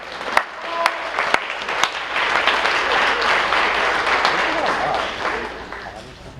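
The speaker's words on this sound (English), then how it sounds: "But one more round of applause for the most inspirational." Audience applause at a high school athletic awards night: a few sharp claps at first, then full sustained clapping that builds and slowly tapers, with faint voices mixed in.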